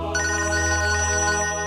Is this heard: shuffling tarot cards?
no